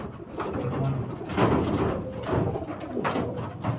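Kaldoma pigeons coo in soft, repeated throaty phrases close by, several birds overlapping in a steady murmur with no talking.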